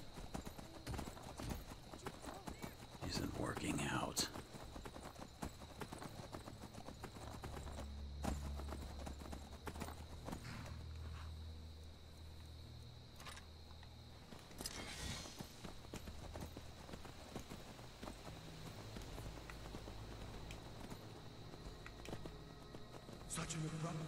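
Steady clip-clop of horse hooves trotting along in modded Skyrim Special Edition, with game sounds and a person talking over the top throughout.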